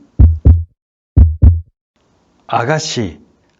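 Two pairs of heavy, low lub-dub heartbeat thumps, loud and close, used as a sound effect in a Korean radio drama adaptation of Daudet's story, followed by a brief stretch of talk.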